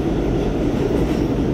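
An R211 subway car on an inbound A express train makes a loud, steady rumble and roar at close range, with a continuous rolling drone and no break.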